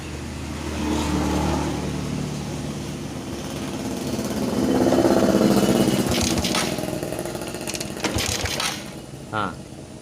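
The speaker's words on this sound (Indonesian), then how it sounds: "Kita coba engkol lagi ya." A Suzuki Shogun 125 motorcycle with a stalling, sputtering engine is kick-started repeatedly, giving loud close mechanical churning that swells and fades, followed by sharp metallic clicks and clanks, with no talking.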